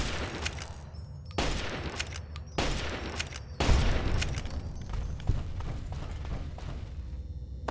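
Automated turret gunfire in Fallout 3/New Vegas (Tale of Two Wastelands, Big MT), heard as loud bursts of rapid shots in several clusters, with booming impacts and no talk.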